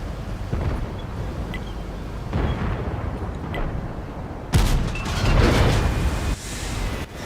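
Explosions in the World of Tanks video game as a tank vehicle is destroyed: a rumbling stretch of distant booms and crackling blasts, then a sudden loud, close detonation that roars on before cutting off.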